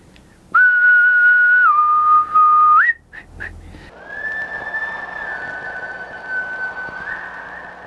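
A person whistles, imitating the bird-like whistle from the score of the 1981 horror film Just Before Dawn. A loud, sustained, wavering pitch with short chirps is followed by softer, higher whistling over a low hiss.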